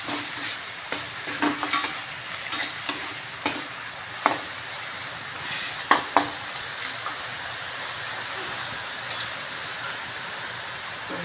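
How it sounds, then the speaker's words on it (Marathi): Onions fry in a pan with homemade chili powder, a steady close sizzle broken by repeated scraping and clinking of a spoon stirring, no talking. "भाजतो चांगला कांदा"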